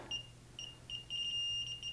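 A breaker finder tool at a breaker panel beeps in a run of short, clear electronic tones, ending in a longer sustained beep, fairly quiet with a low hum beneath and no talk.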